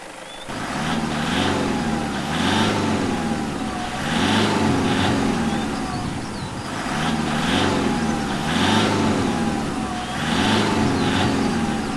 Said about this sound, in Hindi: तो गाड़ी रिवर्स में ले, जल्दी कर।